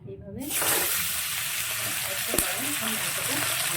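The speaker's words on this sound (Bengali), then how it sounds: "এবার আমি মাংসটা কড়াই আস্তে আস্তে দিয়ে দেবো।" Chicken pieces hit hot oil in a kadai for chicken kosha, setting off a sudden loud sizzle that settles into a steady frying hiss, with one sharp clink midway.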